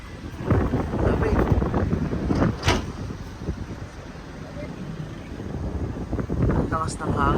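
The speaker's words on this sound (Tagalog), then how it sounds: "Ang lakas ng hangin dito." Strong wind buffets the microphone with a steady low roar and gusts near the Agos River in Infanta, Quezon, while a person talks over it.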